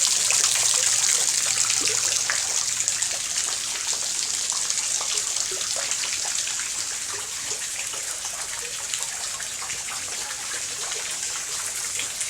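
Water trickling and gurgling steadily in a garden fish pond, a continuous close, bright splashing babble with no voices.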